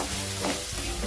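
Spicy brinjal (eggplant) curry is stirred in a hot pan, giving a steady sizzle with scraping spoon movements; it is close and continuous, with no talk.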